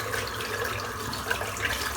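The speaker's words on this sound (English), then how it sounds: "The brush itself, I'm just going to rinse that out now" Water streams steadily from a running tap as a shaving brush is rinsed out, a close, continuous hiss and splash with no talking.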